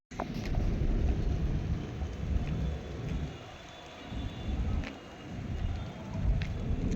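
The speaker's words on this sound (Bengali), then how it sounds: "বৃষ্টি পড়ছে" Rain falls steadily during a sudden downpour, mixed with heavy low rumbling from wind buffeting the microphone that swells and fades.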